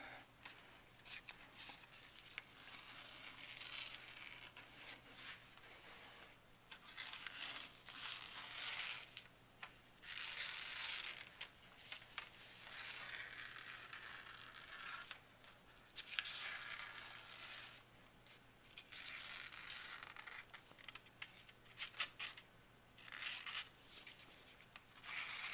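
Foam pieces for a puppet head being cut out, a long run of close, quiet crunching and rasping cuts in uneven strokes with brief pauses, no talking.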